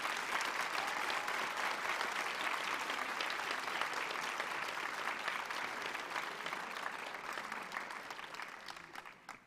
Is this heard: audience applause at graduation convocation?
yes